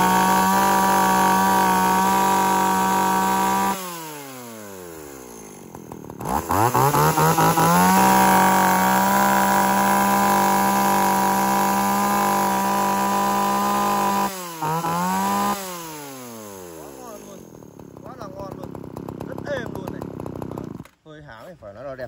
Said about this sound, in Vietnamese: Test nổ này, test nổ con này, con này chạy phải nói là bao ngon, dòng này cực kỳ là bền